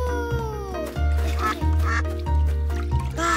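Cartoon duck quacking loudly and close, several rhythmic quacks in quick succession over a busy musical background.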